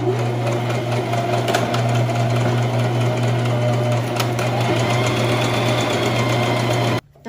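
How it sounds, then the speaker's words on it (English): A sewing machine stitching at close range, with a steady loud mechanical hum and rapid rattle, forward then backward stitches, stopping abruptly at the end. "I'm going to do a couple stitches forward, and then I'm going to do a backward stitch on here with the push of a button"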